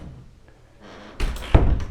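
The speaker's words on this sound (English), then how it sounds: "Close my door." After quiet shuffling, a room door swings shut with a soft thunk and then a firmer close slam, both near and loud.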